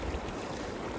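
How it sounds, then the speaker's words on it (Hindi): Meltwater from snow rushes along a mountain stream in the Solang Valley, a steady broadband wash that stays close and continuous with no voices. "पानी का बहाव, शीतलता बिल्कुल, और बिल्कुल प्योर बर्फ़ पिघल के आ रही है"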